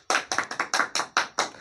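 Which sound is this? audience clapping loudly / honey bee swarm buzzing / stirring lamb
audience clapping loudly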